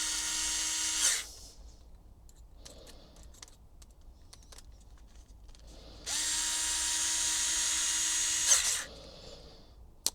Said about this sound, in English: now we can now tighten up all the screws